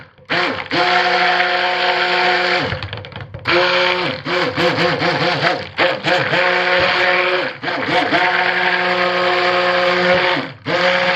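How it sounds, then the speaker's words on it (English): A stick blender whirs loudly and steadily while mixing unscented white soap batter, with its motor pitch wavering and dipping in pulses as it is worked through the thick mixture, running almost continuously throughout. "I'm going to have to use this stick blender head"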